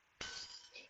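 Glass shatters in the video game Edna bricht aus, a single sudden crash followed by a short tinkling fall of shards that fades within a second.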